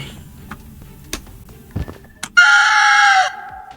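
A single chick call from the video game Garten of Banban 3, a loud, bright electronic chirp lasting about a second, following a few sparse clicks and thumps of gameplay.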